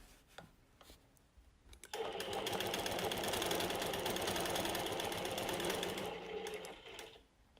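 Longarm quilting machine stitching a grid with ruler work, starting after a quiet moment with faint handling noises, then running in a fast, steady, close mechanical whir for several seconds before slowing and stopping near the end.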